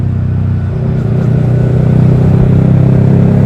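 A Yamaha R15 V3 motorcycle fitted with a Daytona Evolution exhaust idles and burbles steadily, a loud, continuous low throb with slight revving swells, recorded close by through a camera mic.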